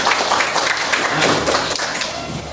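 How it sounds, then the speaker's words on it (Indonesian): Applause from a classroom of students fills the short stretch, a dense, steady patter of many hands at close range with some voices mixed in. "Baik, tepuk tangan."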